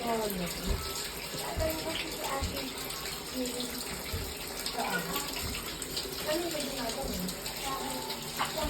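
Running water gushes steadily from a shower nearby while a dog is bathed, splashing continuously while a person talks faintly over it.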